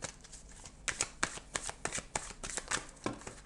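Bélines tarot cards riffled and shuffled by hand at close range, a run of crisp rapid flutters and taps growing busier after the first second, alone with no talk.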